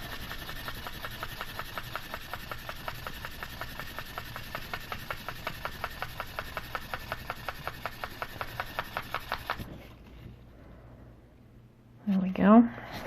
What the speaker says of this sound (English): we're going to move on to our 1500 grit paper